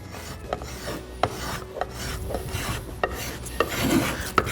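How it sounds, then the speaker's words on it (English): A spokeshave shapes a wooden rocking chair spindle, a steady raspy scraping with light rhythmic strokes and small clicks as the blade catches the wood, close and unaccompanied by speech. "Be careful when you're using the spoke shave"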